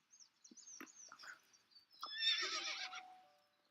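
A horse in the Star Stable Online video game gives a clear whinny near the middle, preceded by a few soft clip-clop hoof taps and small clicks, all fairly quiet.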